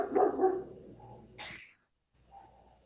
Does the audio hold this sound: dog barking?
yes